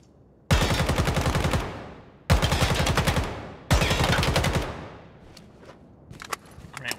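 AK-105 rifle fire in the tactical shooter Ground Branch: three sharp bursts of rapid automatic shots, each about a second and a half, loud and close, with a ringing tail and faint clatter after.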